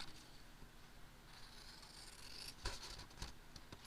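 Scissors snip a paper pocket for a junk journal, quiet and close, with soft rustling and a few sharp cuts near the end and no voices.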